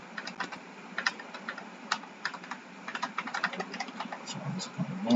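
Rapid, irregular keystrokes on a computer keyboard as an email address is entered into a point-of-sale app registration form, close and clear over a low steady hum.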